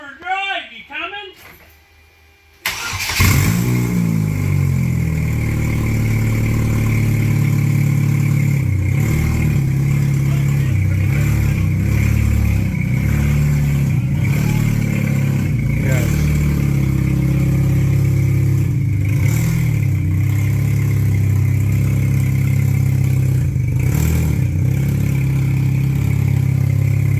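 Race car engine with a fuel cell, running steadily and loud at close range while driving, holding a rough mid-pitched drone with periodic surges, after a brief quiet start with talking.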